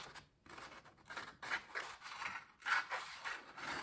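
A blunt kitchen knife is tried in a cutting test before sharpening on a diamond plate, producing a quick run of rough rasping, scraping strokes, close and without speech.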